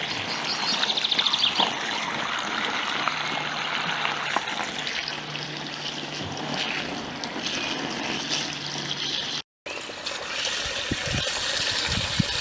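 Water gushing steadily into a bucket to soak a horse's stable rug, a continuous close splashing pour with a brief cut near the end, no talking.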